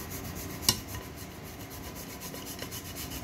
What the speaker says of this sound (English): So I'm gonna use my microplane grater and just grate it right on in.